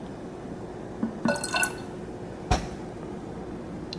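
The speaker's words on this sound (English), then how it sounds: "Gonna pour a little bit back in there." Gatorade being poured back into its container in a short, quiet splashing burst, then a single brief drip or clink a moment later, over a faint steady room hiss.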